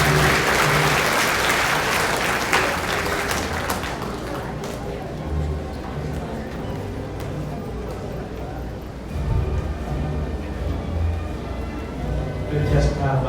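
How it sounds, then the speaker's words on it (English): Loud applause fills a school graduation ceremony as a hall audience claps for the STEM strand graduates, dense and steady at first, then thinning to scattered claps before swelling again briefly. "Let's give them a round of applause."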